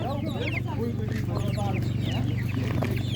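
Chickens cluck and murmur at a busy animal market, steady and fairly close, over a constant low hum and background bustle, with people talking nearby.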